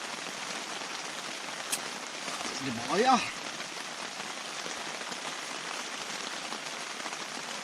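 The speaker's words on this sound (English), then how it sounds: "As you can hear, it's still raining heavily outside." Heavy rain pours steadily outside a kitchen, a dense, constant hiss of drops on surfaces throughout, while a voice speaks briefly over it midway.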